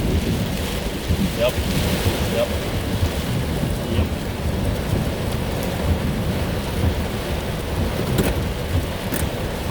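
Heavy rain pours loudly and steadily around a car during a weak supercell storm with strong wind, a dense constant roar with low thunder rumbles, and a brief word spoken once.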